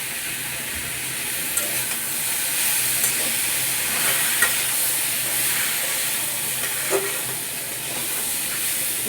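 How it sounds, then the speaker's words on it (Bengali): Turmeric and chili powder frying in a pan for a vegetable dish, a soft steady hiss with occasional light scrapes and taps of the stirring spoon, close and moderate, with no talking. "হলুদের গুঁড়া, মরিচের গুঁড়াটা দিয়ে দিচ্ছি।"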